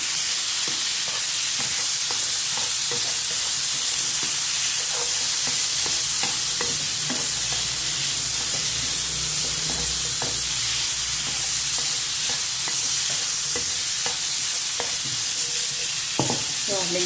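Pork fat cracklings fry steadily in a pan, a dense continuous sizzle with scattered pops and stirring clicks, close and loud throughout with no talking.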